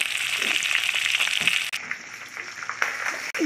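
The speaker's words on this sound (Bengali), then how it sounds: "মাছের মাথাটাকে ভেজে নিয়েছে।" A katla fish head fries in a pan, giving a loud close hiss of sizzling oil that softens partway through, with faint clinks and no speech.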